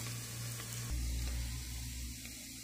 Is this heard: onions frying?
yes